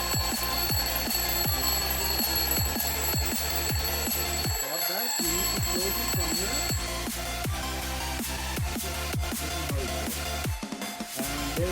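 A mechanical alarm clock rings continuously with a loud, rapid metallic bell clatter, briefly pausing twice before resuming.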